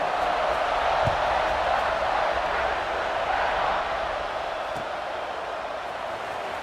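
A large football stadium crowd at an Ohio State versus Tennessee game roars in a steady, broad wash of cheering that holds throughout and eases slightly toward the end, with no close voices.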